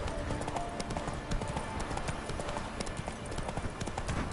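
Horse hooves of Roach, the horse in The Witcher 3: Wild Hunt, clip-clopping in a steady rhythm against a busy game soundscape, fairly close and continuous throughout.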